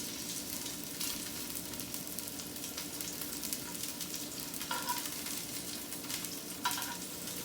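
Shrimp searing in a pan, with a loud, steady close sizzle throughout and a couple of brief scrapes or clinks near the end.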